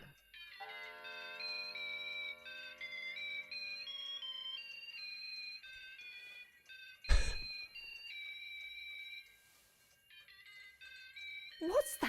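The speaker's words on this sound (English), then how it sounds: "Your phone's going. It's your ringtone." Phone ringtone in the video game Syberia: The World Before, a bright repeating electronic melody of chiming tones that plays in phrases, briefly broken by a loud clatter, then resumes before another burst of noise at the end.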